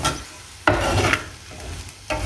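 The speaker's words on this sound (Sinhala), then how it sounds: "කහ කුඩු ටිකක් එකතු කරලා මේක හොඳට කලවම් කරගන්න ඕනේ" A spice mixture with turmeric powder is stirred in a pan for a durian seed dish, giving close scraping strokes in bursts over a soft background sizzle, with no talking.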